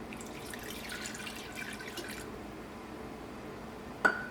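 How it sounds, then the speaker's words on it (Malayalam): Water is poured into rice flour in a vessel, making a faint, quiet trickle and drip that ends with one sharp splash, with no talk. "ഇതിലേക്ക് 3/4 കപ്പ് വെള്ളം ചേർക്കാം."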